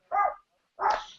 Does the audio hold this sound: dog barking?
yes